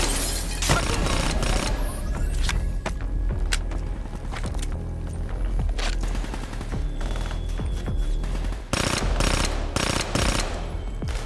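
SMG fire in Call of Duty Black Ops 3 on the Hypocenter mission, repeated loud rapid bursts with booming impacts and brief lulls between volleys, steady combat noise throughout.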